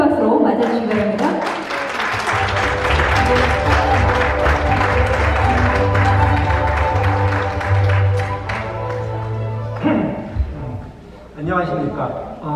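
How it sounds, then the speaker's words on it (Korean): A forum audience gives warm applause welcoming a Korean National Assembly member, with music playing along underneath; the clapping fades out near the end as scattered sounds follow. "여러분 따뜻한 박수로 맞아주시기 바랍니다"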